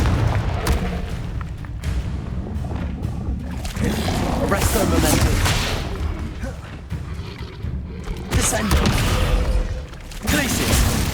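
A Confringo blasting spell explodes in Hogwarts Legacy, loud booming bursts with crackling debris, repeated through the clip alongside a spoken voice and game noise.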